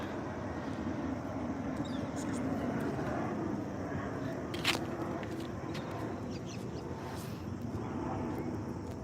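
A low, steady roar of passing traffic fills the background, with an airplane droning faintly overhead; the whole scene stays distant and muffled.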